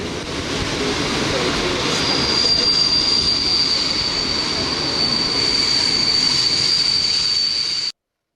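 A train's wheels squeal as it pulls into a main station on a rail journey from Lyon toward Romania: a sustained high metallic screech over steady rumbling, loud and close, ending abruptly.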